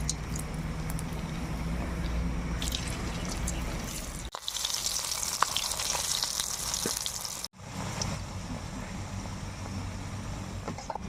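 Homemade samosas (singara) fry in hot oil, giving a soft, continuous bubbling sizzle that brightens into a sharper hiss in the middle section before settling back down.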